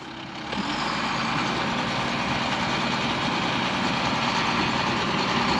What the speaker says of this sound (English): there's a monster truck in your pond